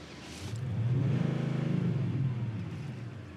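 A Maserati Quattroporte with an active exhaust revs once, a low engine note swelling up and easing back down over a few seconds, heard from nearby and fairly quiet.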